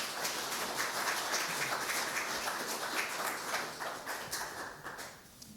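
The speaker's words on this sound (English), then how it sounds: "So thank you to our MRC members that are here. A round of applause" Audience applauding Medical Reserve Corps volunteers at a Dutchess County emergency preparedness program, a steady roomful of clapping that holds for several seconds and then starts thinning out.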